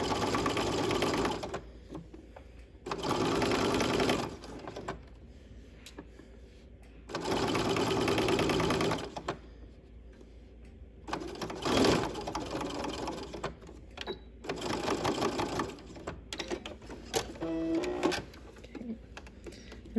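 A sewing machine stitches a welt pocket in a series of loud, steady whirring runs, separated by short pauses and the soft clicks of the fabric being repositioned.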